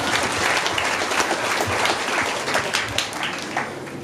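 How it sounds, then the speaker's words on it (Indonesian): Audience applause fills a school anniversary ceremony at SMA Negeri 6 Kupang, a dense, steady wash of many hands clapping at close range for about four seconds, with a few faint voices mixed in. "Tepuk tangan dulu untuk semua negeri 6 dulu"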